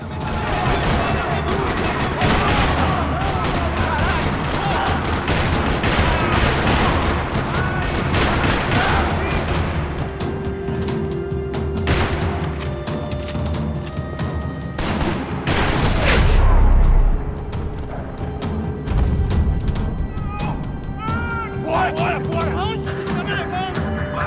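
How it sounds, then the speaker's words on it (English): Sustained rapid gunfire in the video game Max Payne 3, rattling bursts and heavy blasts in a parking lot, a dense chaotic firefight that keeps going, with voices faintly mixed in. "Another parking lot rattling with gunfire."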